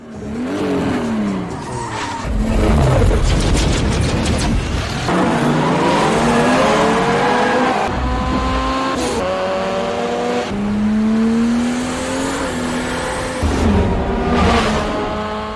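Race cars roar and whine at high speed, engines rising and falling with screeching tires, loud and continuous throughout.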